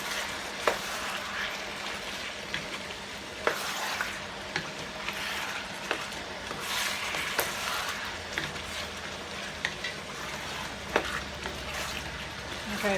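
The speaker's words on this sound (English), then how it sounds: "I'm gonna just add that little juice that was on the meat to it. It's more flavor, y'all. And just get that stirred in." Curry chicken cooking in a pot with its meat juices, a steady close sizzle and bubbling broken by repeated sharp spoon knocks and scrapes against the pot at irregular intervals, with no talking.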